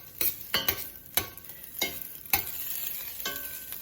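Ginger fries in a pan over high heat, a continuous sizzle broken by several sharp scrapes and knocks of a stirring utensil, close and fairly loud with no talking.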